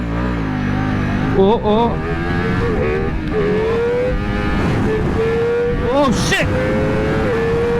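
A Ducati Multistrada RS in race mode accelerates hard toward 200 km/h, its engine winding up through several gear shifts with rising and falling whines, loud and under wind rush; a rider speaks and exclaims over it.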